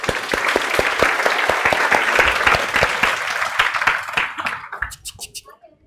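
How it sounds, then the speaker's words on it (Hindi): A class audience applauds their teacher in a CA Foundation accounts session: dense, lively clapping from many hands that holds strong for about four seconds, then thins out into a few scattered claps. "हमारे मैडम के लिए एक बार तालियां बजाइए जोर से।"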